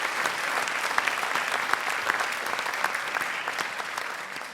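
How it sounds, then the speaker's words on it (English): Concert audience applauding after a string orchestra performance at a school spring band and orchestra concert, sustained dense clapping that stays even and full throughout. "how about another round of applause for that amazing string?"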